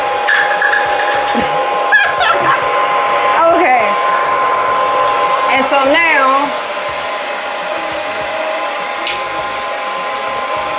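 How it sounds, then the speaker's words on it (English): A blow dryer whirs loudly and steadily, with clattering handling noises and a brief spoken remark, then the tone drops slightly as it keeps running. "I connect the blow dryer because you can turn it on."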